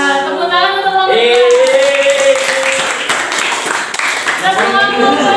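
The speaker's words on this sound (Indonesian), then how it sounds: "Tepuk tangan untuk kelompok 2" Classroom audience of students clapping for a group during a micro-teaching session, brisk applause mixed with loud talking and cheering voices throughout.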